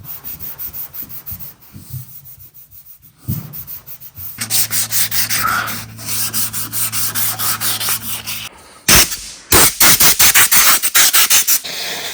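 Steady rhythmic sanding strokes rasp against a car body's paint, close and loud, pausing briefly before resuming faster, with a low hum partway through.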